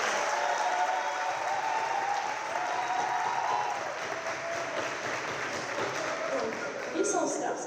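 An audience at a round-table talk on women in sport, ahead of the Olympic Games, gives a dense, sustained burst of applause that fills the room, with voices mixed faintly into the clapping.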